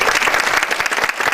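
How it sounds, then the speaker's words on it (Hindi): A theatre audience at a nautanki folk theatre event claps together in a dense, even burst of applause, close and loud. "मैं चाहूँगा कि एक बार आप सबका आशीर्वाद मिले तालियों की शक्ल में इस परिषद"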